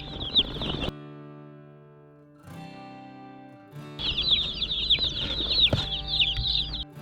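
Meat chicken chicks cheep in a dense, high, continuous chorus, loud and close, breaking off for a few seconds of quieter background hum before the peeping swells back in.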